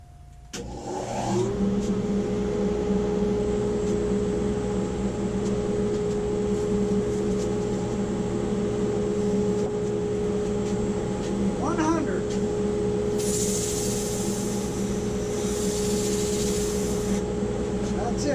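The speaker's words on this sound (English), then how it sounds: "Now I'm going to turn on the vacuum" A shop vacuum running steadily throughout while a workpiece on a lathe is sanded, a loud constant whine starting after a short click, with a brief rougher burst of sanding late on.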